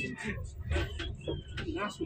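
A cat meows several times, faint and close-miked, at a roadside restaurant in Barru, Indonesia, mixed in with people chatting nearby.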